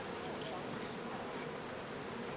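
Honey bees from a Berlin colony, a close, continuous buzzing hum that holds at a steady level throughout.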